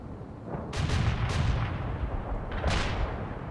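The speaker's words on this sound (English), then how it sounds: "Artillery strike on the way." An artillery strike in the World in Conflict strategy game, a rolling barrage of heavy booms and crackling blasts rumbling continuously at moderate distance, with sharper impacts punching through the roar.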